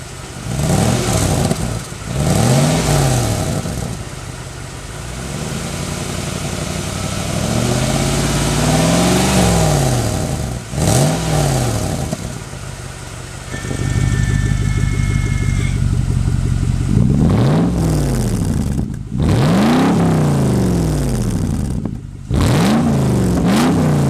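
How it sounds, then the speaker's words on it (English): A loud exhaust on a Lexus GX470 SUV with an exhaust cutout revs and drops repeatedly, crackling and popping with burbles and backfires between throttle blips, recorded close to the tailpipe. "There's little burbles. There's like backfires."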